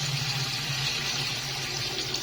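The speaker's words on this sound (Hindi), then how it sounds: "पानी डालेंगे अपने हिसाब से" Water poured into a cooking pot while making beef keema pulao rice, a continuous steady splashing and gushing stream heard up close, with no talking.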